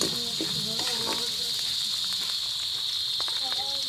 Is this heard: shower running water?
no